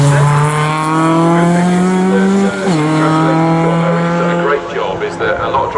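A race car in a Sports 2000 championship race at Snetterton howls past the commentary box, its loud engine note rising and then dropping sharply as it goes by, with harmonics sweeping downward and fading afterward.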